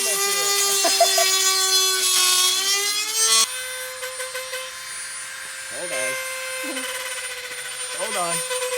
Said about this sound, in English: We'll take a Dremel to it.